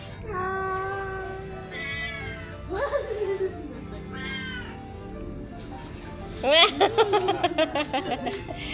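A cat meows repeatedly, starting with long drawn-out calls and building to a rapid run of loud, insistent yowls near the end, close by, with a person's voice talking in between.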